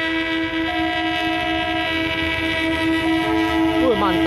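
Train horn blaring loudly and steadily at a railway level crossing near Sentolo, Yogyakarta, with a rushing rail rumble beneath; the horn pitch bends downward near the end as the train passes close by.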